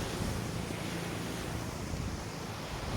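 Sea waves at a beach, a constant soft wash of surf with wind noise on the microphone, low and steady throughout with no speech.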